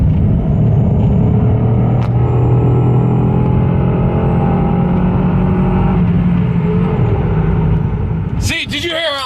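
A heavily modified racing car in a video game revs hard and loud, its throaty engine roar sustained throughout with shifting pitch, ending in a burst of sharp, distorted crackling.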